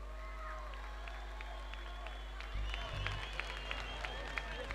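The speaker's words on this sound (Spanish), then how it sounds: "un aplauso para Pablo." Faint audience clapping for a performer named Pablo rises at an outdoor artisan fair in San Carlos. Scattered claps sit over a low steady hum and grow a little fuller partway through.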